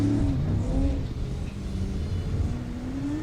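An unlimited-class race truck engine revving on track, a steady rumbling roar with gentle rises in pitch, moderately loud and continuous with no voices.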